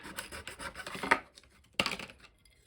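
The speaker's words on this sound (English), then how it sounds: "Here I'm using my little miter sander from Harbor Freight." A small Harbor Freight miter sander working small wooden pieces for a model bridge's girders: rough rubbing and rasping in uneven bursts, close up, with a sharper surge partway through and no talking.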